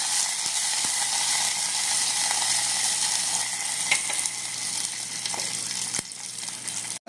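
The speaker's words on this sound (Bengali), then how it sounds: "আর দিয়ে নেব কারি পাতা। এটাকে ভালো মতো নাড়িয়ে নেব।" Curry leaves with a little ginger sizzle in hot ghee in a pan while being stirred, a steady bright frying hiss with occasional clicks of the spoon against the pan, close and alone without talk.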